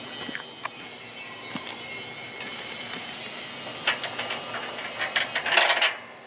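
Metal clicks and light clanks from a temporary bolt being worked out of a 2013 V6000 boat hoist during assembly, scattered taps building to a louder rattling burst near the end over steady background hiss.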